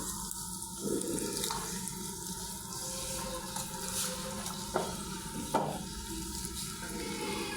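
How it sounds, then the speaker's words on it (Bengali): Hands knead spice paste into raw beef pieces in a bowl for a Bengali beef curry. The wet squelching and mushing is soft and steady, with occasional louder slaps, and nobody speaks. "এখন হাত দিয়ে ভালোভাবে মশলাটা মাংসের সাথে মিশিয়ে নেব"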